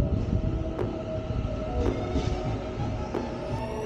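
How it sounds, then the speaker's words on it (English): A train sits in a station amid steady rumbling and mechanical hum, with sharp metallic clanks recurring every second or so over the continuous loud drone; no talk. "right now we're in a train station"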